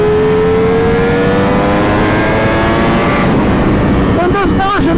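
A Ducati Panigale V4 R motorcycle engine roaring loud and close as it accelerates, pitch climbing steadily through second gear before a quick shift near the end, with strong wind rush throughout.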